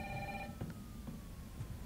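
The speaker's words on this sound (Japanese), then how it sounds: "電話のかけ主だいぶしぶといね。 何コール鳴らしてる。" A telephone rings in the video game Resident Evil 3 remake. It is a short electronic trill that cuts off early over a muffled, rumbling game ambience.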